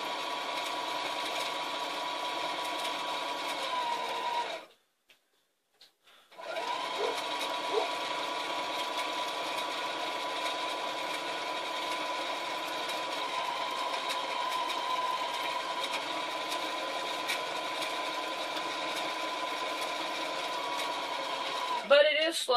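A sewing machine stitching a bag runs with a slow, steady mechanical whir, stops briefly, then resumes at the same sluggish pace, with a voice speaking over it.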